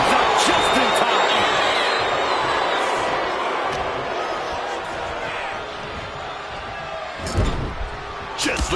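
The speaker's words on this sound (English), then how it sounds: "Just listen to this crowd." A wrestling arena crowd in the WWE 2K26 video game roars and cheers continuously, a dense wash of noise with a sharp impact or slam near the end, heard under a commentator's voice.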